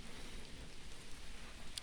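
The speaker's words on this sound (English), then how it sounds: "Even rain doesn't stop tourists" Rain falls steadily as a faint, even hiss of drops, continuous and without other clear sounds.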